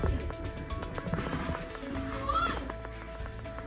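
A horse that has just been washed neighs once, a rising whinny in the middle, amid light hoof clatter, knocks and general outdoor background noise, fairly faint overall.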